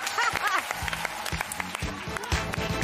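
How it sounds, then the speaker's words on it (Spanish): Studio audience applause on the Argentine game show Pasapalabra celebrity special, a brief burst of clapping mixed with someone talking over it. "Aplaudo al equipo de guiones."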